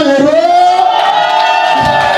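A crowd at an investiture ceremony cheers loudly with high whoops and shouts that swell and fall over a couple of seconds, close and dense.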